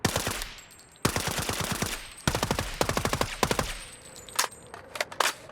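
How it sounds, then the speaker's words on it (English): Close, loud gunfire from a session recording weapons for the game Sniper Ghost Warrior 3: rapid automatic bursts cracking in quick succession, then a few sparser single shots, each with a short outdoor tail. "Even if you shoot the same gun, you will never hear the same sound twice."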